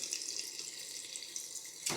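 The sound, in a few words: water running from tap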